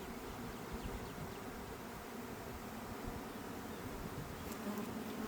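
Honeybees buzz at the hives during a package installation, a dense, steady swarm drone close by that fills the whole stretch without pause or talk.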